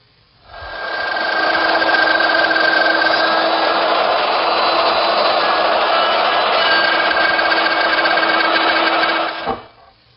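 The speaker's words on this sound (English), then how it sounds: "Then using my router, which is equipped with a dovetailing bit and this little collar" A handheld router fitted with a dovetail bit and guide collar cuts dovetails in wood for a toy chest, a loud, steady high-pitched whine that starts abruptly, holds for about nine seconds and spins down at the end.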